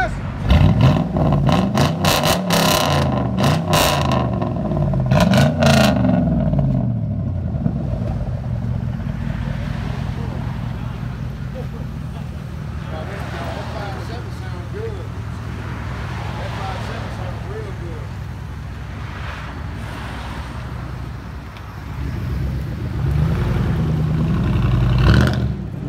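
A Chevy Tahoe 5.3L V8 with a loud dual exhaust revs hard up close, rising and falling in repeated bursts of deep rumble, then settles to a throaty idle before revving again, with voices talking over it.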